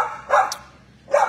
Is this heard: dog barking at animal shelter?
yes